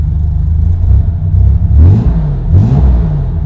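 A 1965 Corvair engine runs with a loud, low, lumpy idle, rising in two short revs near the end before settling again, close and unbroken by talk.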